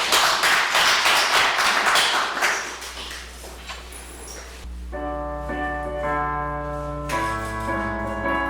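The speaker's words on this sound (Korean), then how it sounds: "우리 영광의 박수 한번 드리겠습니다." In a church, a congregation claps in a dense burst of applause for about four seconds before it dies away. A sustained electronic organ or keyboard chord then sounds, with bright layered tones that change partway through.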